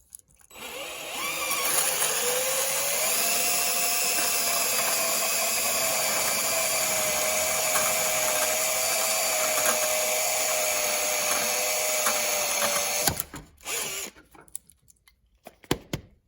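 A diamond cutter grinds through a carbon fiber mold, a loud sustained high-pitched drilling whine held steadily for about eleven seconds before stopping, followed by a few faint handling knocks.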